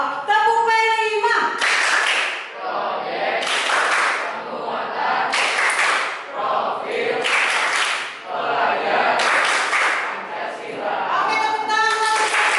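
A school classroom of students claps the rhythmic P5 clap pattern together, loud bursts of hand claps in repeating groups with brief pauses, and a voice speaks briefly at the start and end.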